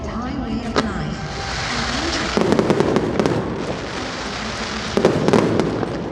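Fireworks from a light-and-sound show at Wat Kalayanamitr on the Chao Phraya River crackle and burst repeatedly at a distance over a steady crowd murmur, with two louder clusters of sharp bangs.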